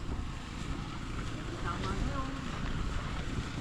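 Wind rushes steadily across the microphone, a dense low roar with faint faraway tones in the background.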